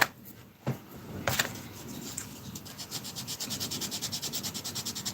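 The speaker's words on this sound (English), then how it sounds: "quickly sand that down" Quick sanding on varnish to remove a fingerprint from a Long Tom scale model, a faint, close rubbing that quickens into a steady run of short back-and-forth strokes after a few isolated scrapes.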